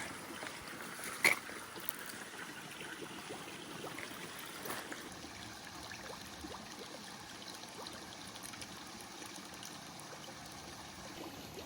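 Creek water flows steadily beside a hiking trail, a soft continuous trickle and rush at moderate distance with no talking, and a couple of brief knocks early on.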